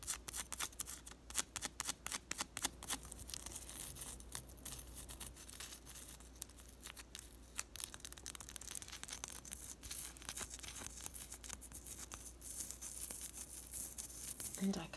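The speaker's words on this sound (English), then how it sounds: "That combination of that really thin plastic on top of the kind of chalky bath bomb." Fingernails scratch and tap on thin plastic wrap over a chalky lavender bath bomb, a close, crinkly, rapid scratching with quick irregular bursts throughout and faint soft talk beneath.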